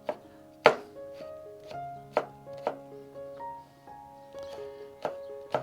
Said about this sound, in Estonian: Praegu ma siis tükeldan ära küüslaugu.